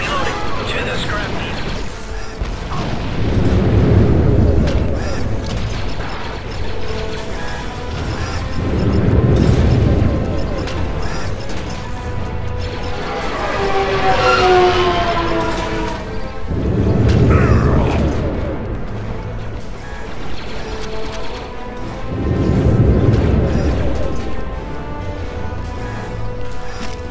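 Explosive charges detonating in Star Wars Republic Commando, a series of heavy booming blasts about every five seconds, each swelling and rumbling away, with game voices and mechanical clatter between them.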